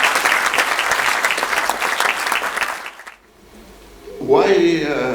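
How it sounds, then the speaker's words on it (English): Loud, dense audience applause at an African book prize award ceremony fills the hall for about three seconds, then fades out before a speaker begins talking. "Big and a better round of applause."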